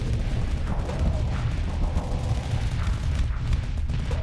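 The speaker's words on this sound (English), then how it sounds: "It's firing its own missiles now." A ship launches missiles in Starsector space combat, with rumbling booms and repeated blasts blending into a steady loud battle din, no talk.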